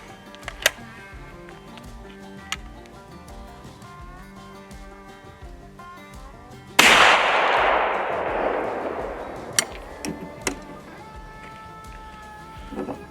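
A single loud shotgun blast from a century-old single-shot shotgun, a sharp crack with a long decaying roar, preceded by quieter clicks and handling noises and followed by scattered faint knocks.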